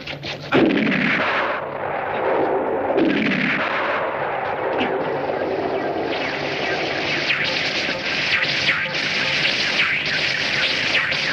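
Gunfire fills a chaotic old action-movie scene, with loud bursts and rumbling blasts over a constant din of noise. Shouting voices are mixed in.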